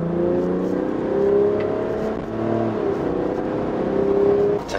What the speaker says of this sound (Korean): 출발해서 가속을 하는데 가속 거리는 좀 걸리는 것 같고요.